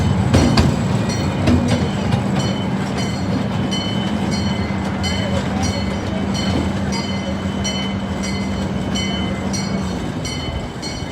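Miniature ride-on train rolling and slowing to a stop, close steady rumble with rhythmic clicking of wheels over track joints and a sustained low drone that cuts off near the end, no talk.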